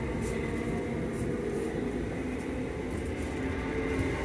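Inside a Southern train running to Epsom Downs, a steady low rumble and rolling wheel noise fill the carriage, with faint rhythmic clicks on the rails and no voices.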